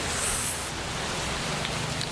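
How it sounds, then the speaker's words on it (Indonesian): Steady rain hisses evenly and fairly loudly throughout, a soft continuous wash of falling water with no voices. "Hujan."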